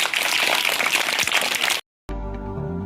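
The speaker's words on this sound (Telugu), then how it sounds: "గట్టిగా క్లాప్స్ కొట్టున్నాను" Schoolchildren at a model primary school function in Polireddy Palem clap together in a dense, steady burst of applause that stops abruptly after about two seconds; after a short silence, sustained tonal music begins.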